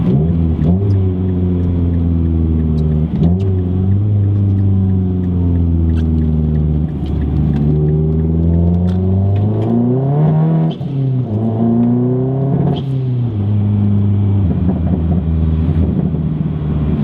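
A modified Mazdaspeed 3 with a loud exhaust drones close by under load, its engine note rising and falling through repeated revs and gear changes, with no talking.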